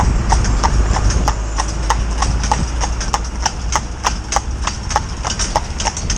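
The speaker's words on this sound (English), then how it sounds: "they can hear the one clip-clopping along" A cob mare's hooves clip-clop steadily along a road at a walk, a regular, close and fairly loud beat over low traffic rumble.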